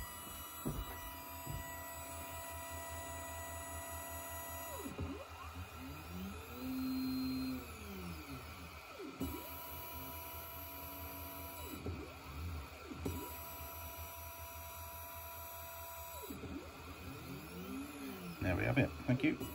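A DIY laser cutter runs steadily while cutting a cardboard wing rib, its stepper motors whining and sweeping in pitch as the head moves, with a constant background hum and brief shifts between passes.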